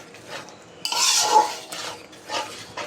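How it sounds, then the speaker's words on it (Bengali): A spoon scrapes and clinks around a pot as sour yogurt is stirred into Bengali chicken roast, a quiet scrape first, then a louder burst of metal-on-pan stirring, followed by softer scraping strokes. "টক দই দেওয়ার সঙ্গে সঙ্গে খুব ভালো করে নাড়তে হবে"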